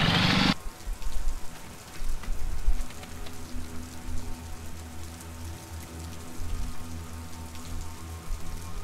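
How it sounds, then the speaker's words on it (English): Rain in the video game Fort Defense, at night, falls as a steady, even hiss of drops for several seconds, moderately loud and unbroken, with faint low rumbling beneath and no voices. "Rain and night time."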